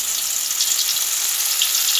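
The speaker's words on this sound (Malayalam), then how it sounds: "എന്നിട്ട് നമുക്ക് ഇതിലേക്ക് ഇട്ട് പൊരിക്കാം." Chilli-coated beef pieces fry in hot oil for a Kerala beef fry, giving a steady, dense, close sizzle that holds evenly throughout with no voices.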